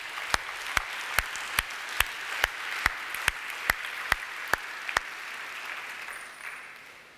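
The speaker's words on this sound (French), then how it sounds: "Acclamons notre roi." A church congregation at a Sunday service claps in unison, about a dozen crisp, evenly spaced claps in a steady beat before trailing off.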